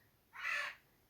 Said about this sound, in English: that's just a pet parrot that I'm keeping for my friend